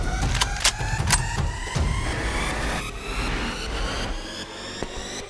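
A car pulls up nearby during a staged vehicle stop, its engine rumbling low with whooshing movement and a few sharp clicks and thuds before the sound eases off near the end.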